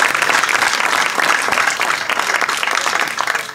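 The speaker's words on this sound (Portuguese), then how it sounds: "uma salva de palmas para eles" An audience at a cantoria singing event at Casa da Ribeira applauds the camera operators, dense loud clapping from many hands, close and sustained throughout without a break.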